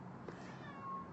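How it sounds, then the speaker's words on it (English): A cat named Stormy lets out a single soft, faint meow somewhere in the background of a quiet room. "If you can hear a cat in the background"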